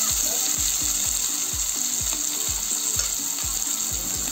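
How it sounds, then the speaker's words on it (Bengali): Large onions with curry leaves fry in a pan, a continuous close sizzle overlaid by evenly spaced ticking clicks at a steady rhythm. "পেঁয়াজটা ভাজি নেবো লাল লাল করে"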